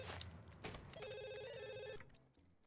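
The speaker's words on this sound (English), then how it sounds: "Don't answer the phone." A phone rings in The Sims video game, a clear electronic trill lasting about a second amid other quiet game sounds, with no talking.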